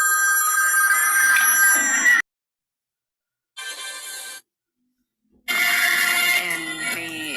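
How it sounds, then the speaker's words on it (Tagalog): A telephone rings loudly in bright, shrill electronic bursts, three of them separated by short silences, close by and with nothing else around it. "Ang lakas ng telepono"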